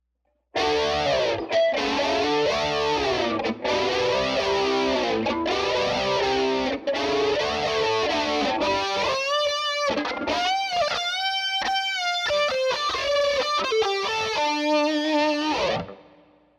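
Electric guitar played through a Line 6 Helix with a Variax, playing distorted, chorus-tinged rhythm chords that give way to singing lead lines and bends, loud and continuous throughout with no talking.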